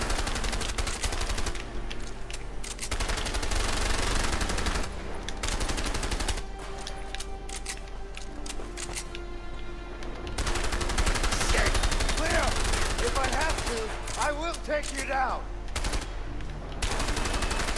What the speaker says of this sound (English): These guns are crazy inaccurate.